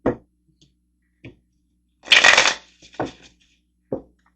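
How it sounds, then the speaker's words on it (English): Tarot cards being shuffled at close range, a few short riffling and slapping bursts with one longer, louder riffle in the middle and quiet gaps between. "let's get a couple of tarot cards"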